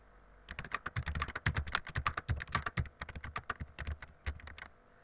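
Fast, uneven clatter of keys on a computer keyboard while an email subject line is typed, a dense run of close taps lasting about four seconds with no talking.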